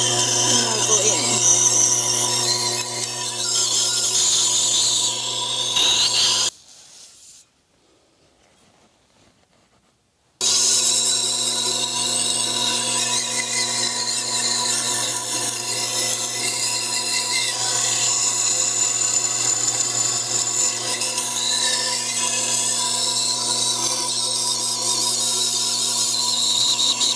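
A Tormek wet sharpening machine grinds a dull kitchen knife on its turning stone, giving a steady motor hum with gritty scraping. It drops out briefly partway through, then resumes, with faint voices underneath.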